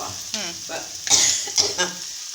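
A spoon stirs tuna fish pickle in a hot pan, giving short scraping strokes over a soft sizzle, with a brief cough partway through.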